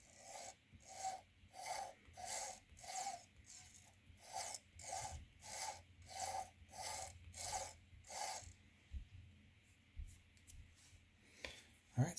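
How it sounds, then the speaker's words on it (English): A scribing tool on a Sherline lathe marking a steam locomotive tender wheel, a faint rhythmic rasping scrape repeating about twice a second for eight seconds, then irregular soft clicks and handling noises. "now let's scribe the exterior one"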